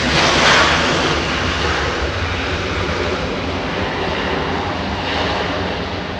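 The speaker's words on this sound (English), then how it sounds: "This is an A321." An Airbus A321 airliner at Los Angeles airport gives a loud, continuous engine roar that peaks early and then holds steady, close and alone.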